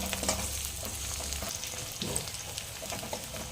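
Tomatoes frying with onion, ginger and whole garlic cloves in a pan while making matar paneer, a continuous close sizzle with soft stirring scrapes, even and moderately quiet.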